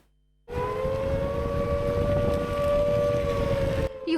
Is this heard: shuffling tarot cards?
no